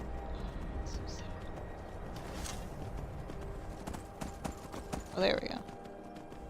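Horse hooves clip-clopping in Skyrim, faint and steady under a quiet game ambience, with a brief spoken remark near the end.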